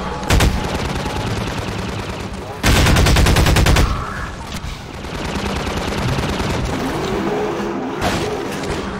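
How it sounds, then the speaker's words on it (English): Gunfire from the video game Half-Life 2, close rapid automatic bursts with one long loud stretch of sustained shooting, over a constant game background. "Who's shooting at me?"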